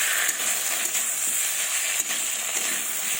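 A spice paste of ground dry chilli, ginger and cumin frying in oil, with a constant bright sizzle close up and a few soft scrapes as it is stirred.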